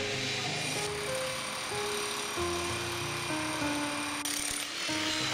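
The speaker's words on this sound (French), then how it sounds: "quelques coups de marteau-pique pour égaliser ce mur" Jackhammer chipping at a concrete wall on a building site, a steady loud rattling hammer with mechanical drone and tool noise throughout, no voices.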